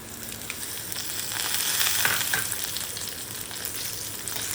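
Green chillies sizzling in hot oil in a pan for a spicy paneer thecha, a steady, fairly loud frying hiss that swells briefly midway, with no voices.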